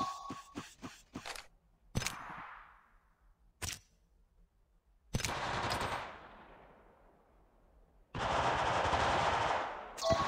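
Apex Legends gunfire: a rapid burst of close, loud shots opens, followed by isolated single cracks with decaying tails, then two sustained bursts of automatic fire, the last a continuous loud stream.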